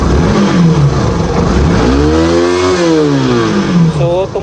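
Motorcycle engine fitted with a racing CDI revving hard and loud, pitch sweeping up to a high peak and easing back, with a voice talking over it.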